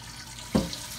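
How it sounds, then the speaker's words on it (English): Tap water runs briefly into a large cooking pan for smothered pork, a short burst of pouring that swells then tapers off over a low room hum. "put a little bit more water in here"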